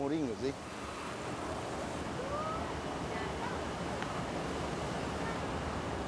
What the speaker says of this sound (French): vous entendez le son de l'eau, ça soit très reposant